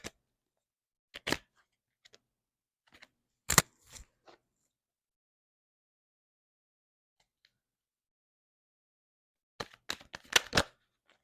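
Tarot cards shuffled by hand in a few short, crisp bursts of riffling and slapping, with long quiet gaps between them and a denser flurry near the end; close and fairly soft.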